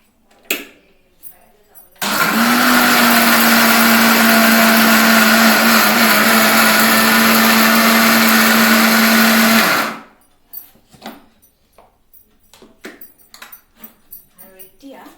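A kitchen mixer grinder jar whirs loudly and steadily for about eight seconds while grinding a hair paste, starting and stopping abruptly, with quieter handling clatter and some talk before and after.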